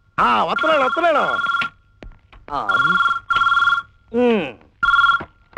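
A telephone rings in repeated loud bursts indoors at home, with short gaps between rings where a voice speaks.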